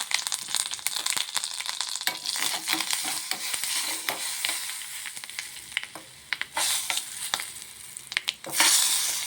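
Dried red chillies and curry leaves crackle and sizzle in hot oil while being stirred, with irregular bursts of spitting and scraping against the pan, fairly close.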